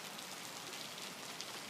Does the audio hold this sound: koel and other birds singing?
no